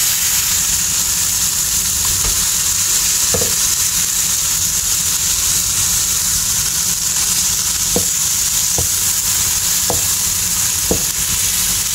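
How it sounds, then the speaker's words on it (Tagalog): Pancit canton noodles fry in a hot pan with a loud, steady sizzle, broken by occasional sharp scrapes and taps of a utensil as they are stirred, close up and with no talking. "Ayan, pwede na natin ilagay ang ating noodles."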